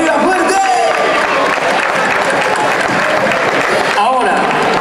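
A concert crowd applauds and cheers for a band at an orchestra show, a dense continuous roar of clapping and voices at full volume, with some tonal sound mixed in.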